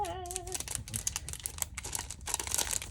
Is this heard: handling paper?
yes